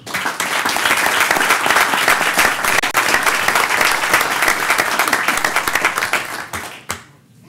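Sustained applause from a council meeting audience, dense, loud clapping from many hands for about six seconds before tapering off into a few last claps and quiet.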